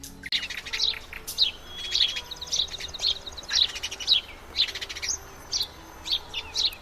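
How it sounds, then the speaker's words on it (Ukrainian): Birds chirp in a staged puppet show about birds, repeated bright tweets and short calls in quick uneven bursts, close and clear over a quiet background, with no speech. "Вони стали свідками незвичайної розмови птахів"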